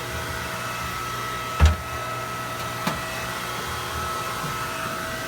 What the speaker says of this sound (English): The air conditioner pump, the raw water pump,